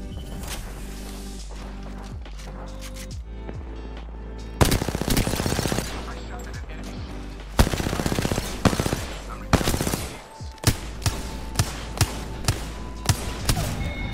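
Rapid automatic gunfire and single shots in the battle royale game Apex Legends, loud bursts crackling in clusters across the clip with short pauses between volleys.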